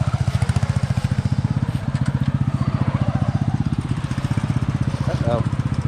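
Tractor engine chugging in a rapid, even pulsing rhythm while driving, loud and close throughout, with a brief scraping rustle near the end.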